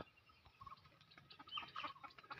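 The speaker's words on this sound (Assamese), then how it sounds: "ইফালে এইগিলা চাক মুৰ্গী চাক, এইয়া দৌৰি আছে, একদম লোকেল মুৰ্গী।" Faint clucking from a few chickens, scattered soft calls at close-to-middle distance over quiet background.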